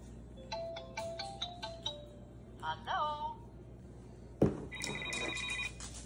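Toy telephone ringing with a short series of chirpy electronic ring tones, then a clatter and a further sustained ringing melody, close by against a low background hum.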